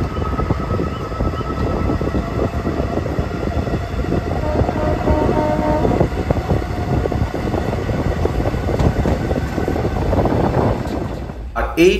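The 12311 Netaji Express rolls along, heard from inside a coach as a steady rumbling, clattering drone with a rhythmic wheel beat, under a voice speaking throughout.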